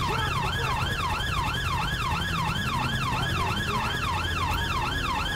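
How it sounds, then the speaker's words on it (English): A British police car siren in the video game GTA 5 wails, sweeping up and down in a fast, steady cycle, loud and continuous over a low engine rumble. "I gotta make sure I turn off my siren"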